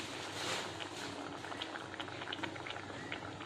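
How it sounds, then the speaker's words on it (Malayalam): Breadfruit curry boiling in a pot, a continuous soft bubbling and popping at low volume with no other sounds. "ഇനി ഇതും ഒന്ന് തിളയ്ക്കണം."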